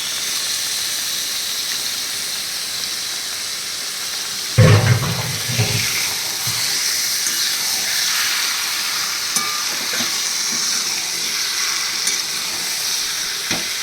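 Yogurt-and-turmeric marinated chicken drops into hot spiced oil with a sudden loud splash of sizzling. It then settles into a steady, close, crackling frying hiss with small pops that continues to the end, with no voices.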